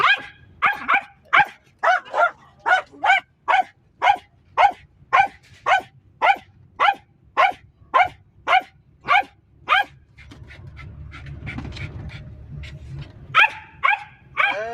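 Street dogs bark in a long run of sharp, evenly spaced barks, loud and fairly close, pausing briefly before a few more barks at the end.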